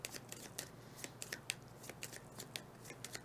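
Board game agent cards being shuffled, a quiet run of quick crisp riffling snaps in an irregular rhythm, close up with no talk.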